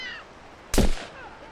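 A single sharp gunshot from the tactical video game Jagged Alliance: Back in Action rings out loud and sudden, with a brief echoing tail in otherwise quiet game ambience.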